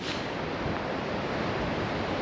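Steady wind gusting across an open golf course, a continuous broadband rush like microphone buffeting, loud and unbroken with no voices.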